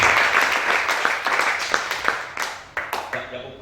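Applause from a church congregation at a prophetic worship service, a dense wash of clapping with a few sharper individual claps that thins out toward the end, with voices mixed in.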